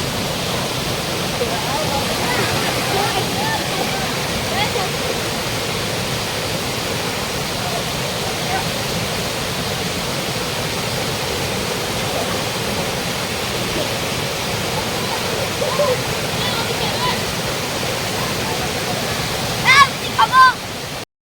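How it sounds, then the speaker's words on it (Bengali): A forest waterfall at Hatigaon in Goalpara roars in a dense, unbroken rush of falling water, loud and steady throughout, with a few brief knocks near the end. "অনেক ঠান্ডা পানি করতেছে এখান থেকে, ঝর্ণার থেকে।"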